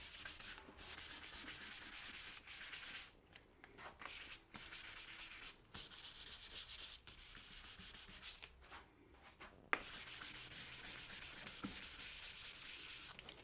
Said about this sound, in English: You want to take some 300 grit sandpaper, 320 or 400 grit sandpaper, and just give it a light sand on some of the dark spots